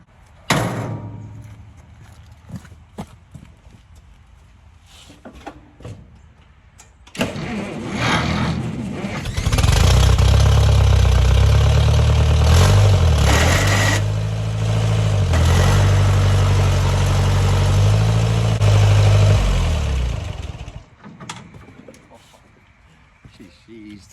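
A Massey 12 hay baler with a stiff, sticking plunger roars into loud, steady mechanical running for about fourteen seconds, then drops away, with quieter knocks and scattered sounds before and after.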